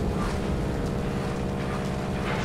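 A warplane's overheating engine in World of Warplanes, a loud continuous droning rumble, steady and close with no talk over it.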